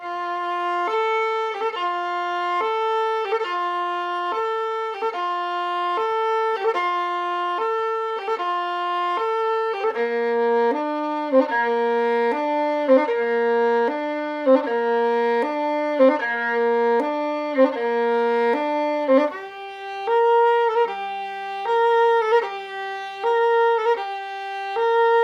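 A violin plays a steady long-long-short-short bowing pattern through repeated scale steps, with clear sustained tones, moving lower partway through and ending on a few held notes.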